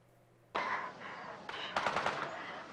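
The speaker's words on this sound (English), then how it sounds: "you do hear the gunfire" Quiet background suddenly gives way to a burst of rapid gunfire that keeps going, with sharp cracks layered over one another.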